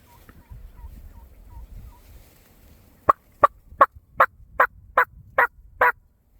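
A wild turkey gobbles and calls during a Midwestern turkey hunt, with a run of about eight sharp, evenly spaced yelps close by following a few quieter clucks and faint rustling.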